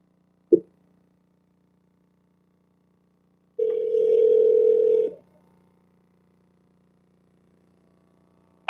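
A short click followed by a steady electronic telephone tone lasting about a second and a half after a dropped call on a city council meeting line, then silence.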